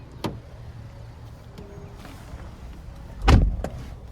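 Someone getting into the driver's seat of a 2012 GMC Terrain SLE-2, with a light click early on and then a single loud, close thud of the car door shutting.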